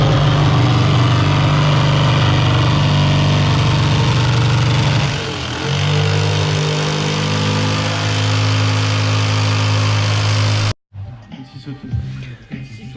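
A jigsaw cuts a 1.8 board for the top of a skate curb, giving a loud, steady motor buzz that dips briefly midway and then stops, leaving quieter handling noises.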